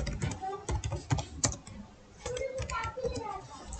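Keyboard typing while an HTML registration form is written on a computer: quick irregular key clicks in short bursts with a pause in the middle, close and fairly faint, with no talk.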